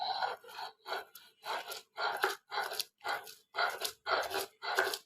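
Beef for a mashed bhorta is ground by hand on a shil pata grinding stone, making a rhythmic series of about ten rasping, crunching strokes, each a short burst with brief pauses, close and fairly quiet.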